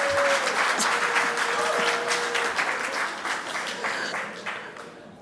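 Clapping from an audience at an economic conference swells into steady, dense applause that slowly tapers, with a faint voice briefly heard at the start.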